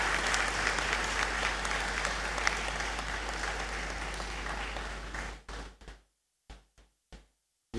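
A crowd at a university congregation ceremony in a great hall keeps clapping for Emmanuel, steady loud applause that breaks off, followed by a few isolated claps in near silence.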